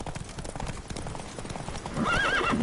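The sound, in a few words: horse Roach galloping in video game The Witcher 3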